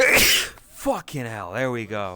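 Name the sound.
sneeze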